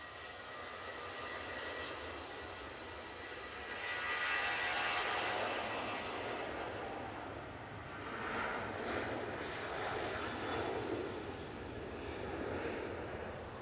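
A jet airliner departs Manchester Airport bound for Split, its engine roar swelling and fading at a distance amid wind buffeting the microphone, rising twice in broad rumbling surges.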